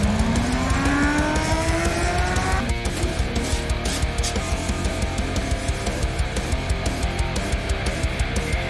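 A 1986 Nissan 300ZX with an LS V8 swap drives by, its engine note rising as it revs up, then settling into a steady, loud, rumbling drone heard up close.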